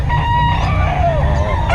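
Rooster crowing loudly and close, a gamefowl offered for sale, its long wavering call rising and falling over a steady low background hum, with no talk.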